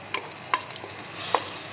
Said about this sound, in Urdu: یہ دیکھیں ماشاءاللہ 2 منٹ کے لیے ہم نے پیاز کو بھون لیا ہے